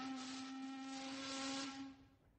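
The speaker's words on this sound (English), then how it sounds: "The steamer whistle screeched" A steamer's steam whistle screeches in one sustained, strong, piercing tone with breathy hiss for about two seconds, then cuts off and fades.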